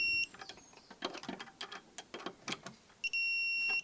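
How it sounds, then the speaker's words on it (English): A torque tester's high electronic alarm sounds briefly, then scraping and creaking handling noises follow before the shrill tone returns steadily at the end, close by, during a dot and dab plasterboard fixing test. "Let the alarm go off."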